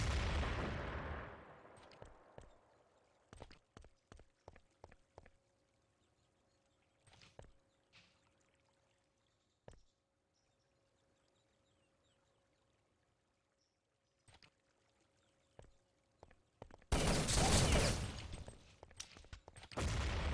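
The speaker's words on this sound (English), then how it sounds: "they're dropping nades towards each other" Grenades exploding during a competitive Urban Zone match between Canada and Portugal, heard as a run of sharp bangs and crackling blasts scattered across long quiet gaps, ending in a loud sustained roar of heavy explosions.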